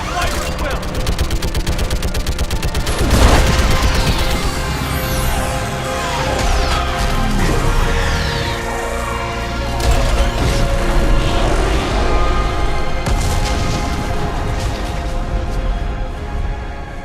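Dense gunfire and an orbital strike in the video game Mass Effect 3, with rapid bursts of shots, heavy impacts and mechanical crashes piling up loudly and continuously, and voices shouting over the battle.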